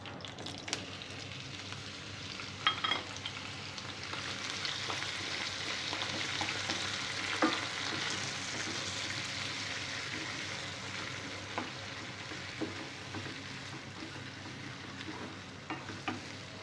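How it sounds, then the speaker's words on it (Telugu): Onion paste with green chillies frying in a pan for a tomato egg curry, giving a steady close sizzle with occasional stirring scrapes and taps throughout, no voices. "ఈ ఉల్లిపాయ పేస్ట్ బాగా పచ్చి వాసన పోయే వరకు ఫ్రై చేసుకోవాలి."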